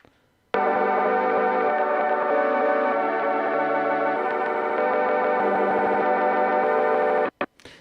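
A sample plays on a Roland SP-404 sampler with its effects engaged. The sound is dense, layered and sustained, with effects colouring it throughout, and it runs loud and steady for about seven seconds before cutting off sharply at the end.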